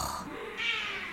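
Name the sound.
cat meowing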